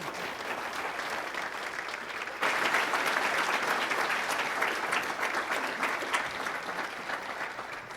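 Audience applause at a State of the Student education event, honoring the superintendent; steady dense clapping that swells louder after a couple of seconds and carries on evenly throughout.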